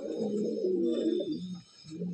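A pigeon gives a low, continuous coo that pauses briefly and then resumes, close and fairly soft, with no talking over it.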